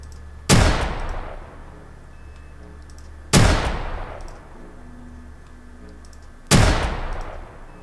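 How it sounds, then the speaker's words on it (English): Three loud, sharp sniper rifle shots in the video game Atom RPG ring out at slow, even intervals, each followed by a long fading tail. "Sniper rifle gives me less accuracy than the AK-47, but let's give it a go."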